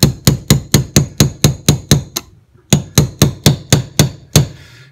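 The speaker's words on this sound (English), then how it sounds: "and we'll drive that roll pin home." Hammer driving a 1/8 inch roll pin into an XDS pistol slide: about sixteen sharp metallic taps in a quick even rhythm, close and loud, with a brief pause midway.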